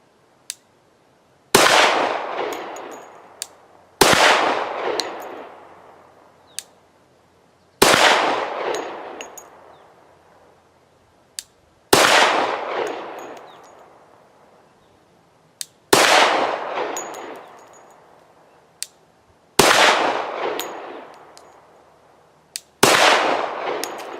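Glock 40 MOS pistol shots ring out against steel targets: seven sharp, loud bangs spaced about four seconds apart, each trailing a ringing decay. Faint metallic pings sound in the gaps between the shots.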